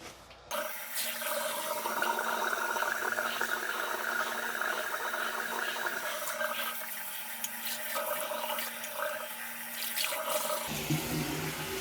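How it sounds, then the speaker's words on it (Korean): Running tap water rinses off wiped cement during a bathroom repair, a steady close rush of water lasting about ten seconds before cutting off near the end. "닦아낸 시멘트 같은 경우에는 이렇게 흐르는 물에 그냥 어, 씻어내시면 금방 잘 씻기, 씻기고요"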